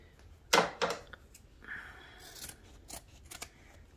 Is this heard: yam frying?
no